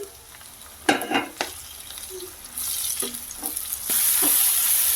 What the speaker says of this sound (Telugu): టమాటో ముక్కలు కూడా యాడ్ చేసేద్దాము సో అలాగే టమాటో ముక్కలు కూడా యాడ్ చేస్తున్నానండి